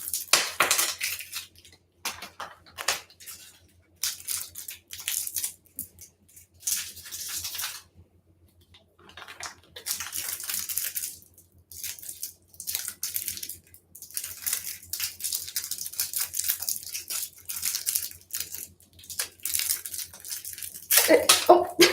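Peppermint candies are crushed inside a plastic bag, heard as repeated loud bursts of crunching and crinkling separated by short quiet gaps over a long stretch, with no talking.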